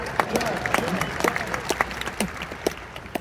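Keynote audience at a Power Platform conference clapping and cheering, sharp scattered claps and whoops rising over a crowd wash while a voice talks over them.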